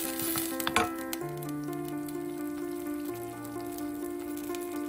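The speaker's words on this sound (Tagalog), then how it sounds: "Pakuluan natin ng 2 minutes. Hanggang ma-dissolve yung sugar." Sweet and spicy sauce for red snapper with mango and tomatillo boils in a pan to dissolve sugar, giving a steady close bubbling sizzle that runs the whole time under faint tonal background hum.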